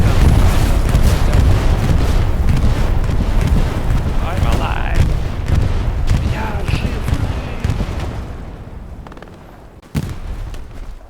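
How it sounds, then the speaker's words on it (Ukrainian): Explosions from an air strike in the Hell Let Loose war game roll out as a continuous heavy rumbling blast that slowly fades over several seconds, ending with a sharp thud, while a player talks over it. "Ой, це авіаудар."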